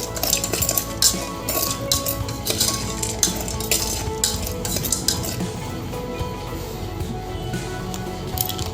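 A spoon stirs and scrapes popcorn seasoned with chaat masala inside an electric kettle, a dense continuous clatter of metal against metal with rapid rattling, loud and close throughout.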